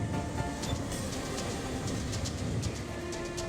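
Train passing over a level crossing on a national road, a steady rumbling wash of wheels and rail noise with faint rhythmic clicks, continuous and fairly close, with no voices.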